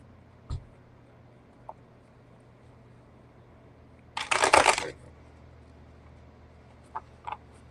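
Tarot cards are shuffled in one quick riffling burst lasting under a second, with a few small isolated taps and clicks before and after in a quiet room.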